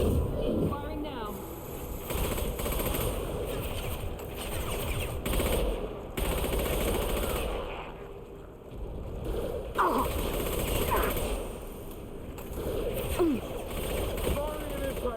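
Repeated bursts of automatic gunfire in Mass Effect 2, loud and close, with a steady low mechanical drone underneath and voices talking over parts of the combat.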